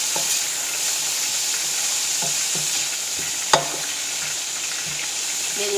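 Fish sizzles in a frying pan while being stirred, with a steady hiss under scattered scraping and clacking of the utensil and one sharp knock, and no talk.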